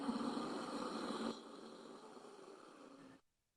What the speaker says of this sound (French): Donc, on entend une espèce de ronflement.